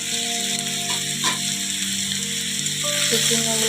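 Vegetable curry frying in a pan, steady close sizzle with occasional scrape and stir of a spoon, and faint tonal hum in the background.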